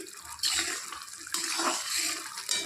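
Water pours from a jar into a cooking pan, a short rushing splash that swells and settles over under three seconds, close and moderately loud, without voices.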